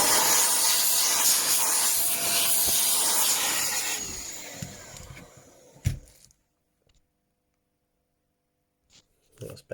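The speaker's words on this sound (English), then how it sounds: "so we'll just give it a quick blast of air." Compressed air blasts broken plastic bits out of Technics RS-BX501 tape deck parts. A loud, close hiss lasts about four seconds and fades, followed by near silence with a few small clicks and knocks.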